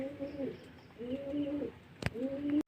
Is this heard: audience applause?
no